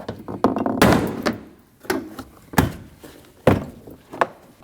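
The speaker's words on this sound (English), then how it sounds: "take a trim tool like this, put it behind, and pull that door panel straight out" Plastic trim clips on a Nissan NV2500 front door panel popping loose as the panel is pried out with a trim tool: a cluster of sharp snaps and thunks, then several separate loud pops spaced about a second apart, close up.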